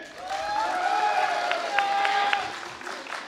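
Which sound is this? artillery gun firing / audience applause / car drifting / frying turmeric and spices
audience applause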